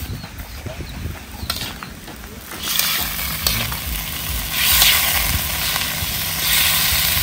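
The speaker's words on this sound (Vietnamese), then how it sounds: "Bò mình xào cho nó vừa chín tới nó mới ngon." Beef sizzles and hisses continuously while being stir-fried in hot oil in a pan, loud and close, with the frying swelling partway through.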